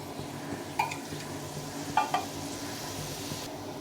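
A pan of mustard and poppy seed paste thinned with water simmering, a low steady bubbling bed broken by a few sharp ladle taps and clinks against the pan.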